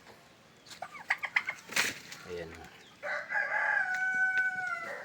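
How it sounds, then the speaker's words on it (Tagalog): A rooster crows loudly up close on a free-range chicken farm, with chickens clucking and a brief flutter of wings; someone speaks briefly before the crow. "Manok."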